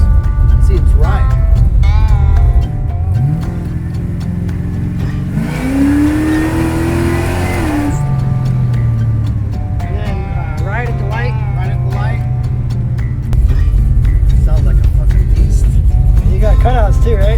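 A car engine hums steadily on the move, swelling into a rising rev partway through before settling back to an even drone, with people talking over it throughout.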